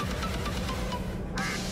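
Ducks quacking in a rapid, steady run of nasal calls, close and dense, continuing without pause and with no talking.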